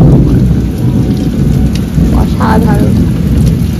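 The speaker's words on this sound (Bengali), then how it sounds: "অনেকদিন পর এরকম মেঘ বজ্রপাত সহ বৃষ্টি হচ্ছে।" Heavy rain with thunder pours loudly and continuously, with deep rumbling underneath and a cold wind, and a person speaks briefly over it.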